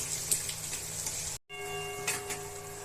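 Masala spice paste of chili powder and cumin powder sizzling steadily in hot oil, a soft continuous fry with faint stirring scrapes and a brief gap midway.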